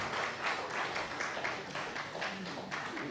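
Audience clapping at an International Day of Forestry event held by a department of forest science, moderately faint and irregular, with a pulsing patter of hands lasting a few seconds.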